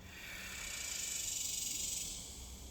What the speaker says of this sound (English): Listen to the sounds of the cicadas and the birds in the background.